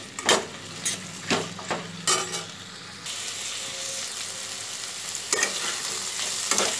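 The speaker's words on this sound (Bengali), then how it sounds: "আলু আর পটলটাকে আমি একসাথেই ভেজে নেব।" Potato and pointed gourd pieces frying together in hot oil in a pan, a steady sizzle with intermittent clinks and scraping stirs of a utensil against the pan, close and fairly quiet, with no talking.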